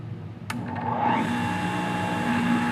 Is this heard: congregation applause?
no